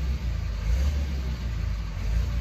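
A 5.9 Cummins diesel truck engine rumbles low and steady with a stock exhaust, idling with slight swells in intensity from revs, close by and continuous with no voices.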